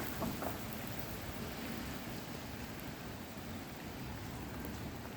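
Hail falls in a heavy hailstorm around an outdoor pool, a steady dense hiss of pelting ice and water that continues without pause at a moderate distance.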